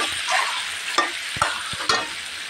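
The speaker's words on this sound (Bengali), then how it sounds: "এখন আমি সুন্দর করে ভেজে নেব।" Fish roe (buri) frying in hot oil with spices as a steady sizzle, with a few soft scrapes of stirring breaking through close by.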